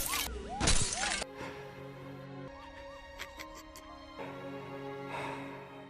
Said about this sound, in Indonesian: Lalu terlihat Kang memecahkan kaca mobil dengan kepalanya dan tertawa di depan Suta